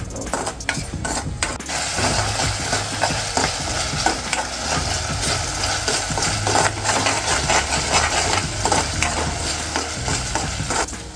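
Cumin seeds fry and sizzle in hot oil in a pan for a pea and egg masala. The hiss is steady and close, and a spoon scrapes and stirs the pan again and again all through, with no talk.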